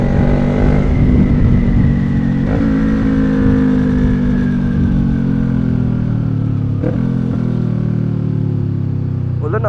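A big bike motorcycle engine runs steadily while riding through Intramuros, with a sustained loud engine drone and strong low harmonics and a few brief shifts in pitch and clattering ticks, close and continuous.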